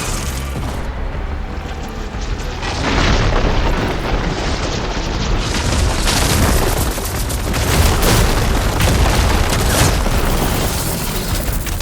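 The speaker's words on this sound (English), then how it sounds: "Hopefully the Denoth will fire a few shots from that ballista." Heavy booming blasts roll on continuously in a Horizon Forbidden West battle, loud and close, as ballista shots crash one after another amid rumbling explosions.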